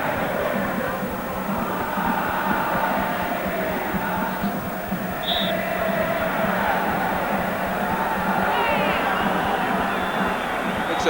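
Roaring crowd of some 70,000 at a packed football stadium during Argentina versus Uruguay in the 1987 Copa America, a loud, continuous wash of cheering and chanting that holds steady throughout.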